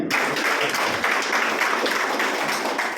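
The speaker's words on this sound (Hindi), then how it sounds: "आप सब लोग अपने अपने स्वागत एक बार जोरदार ताली।" A crowd at a motivational talk claps steadily. The applause is dense and fairly loud throughout, with no voices over it.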